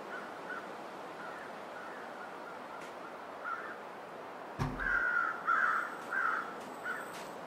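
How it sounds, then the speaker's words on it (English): Crows caw in the video game The Long Dark, faint and distant over a steady windy hiss, with scattered calls early and a louder cluster of harsh caws in the second half after a brief thump. "Where are those birds? They usually lead to something dead."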